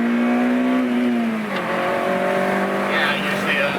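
Nissan 370Z with remote-mount mismatched twin turbos bogging under a slipping clutch, the engine droning at a near, loud steady pitch that sags midway, with people talking over it.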